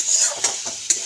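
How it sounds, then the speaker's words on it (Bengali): A spiced potato mixture being stirred and fried in a pan, a close sizzle broken by two quick metallic scrapes of the spatula against the pan. "এটাকে কষে নেব। এই যে এরকম করে"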